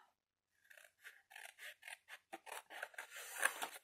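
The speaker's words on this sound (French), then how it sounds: "Et là, je coupe tout droit." Scissors snip through paper card, trimming the gluing tabs of a box with a slanted lid; a close, steady run of about ten crisp cuts with short pauses between them, and no talking.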